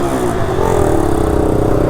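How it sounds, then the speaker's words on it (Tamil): A vehicle engine catches and runs close and loud, a rising motor whir with clattering texture on a roadside stop during a trip near Kanyakumari, with no talk over it. "அப்பா வண்டி எப்படி ஸ்டார்ட் ஆகிட்டு."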